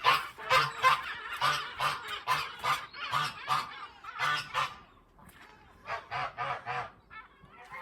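Geese honking loudly in a garden near their house, a rapid run of repeated nasal honks, then a short pause and another burst of calls, close to the listener.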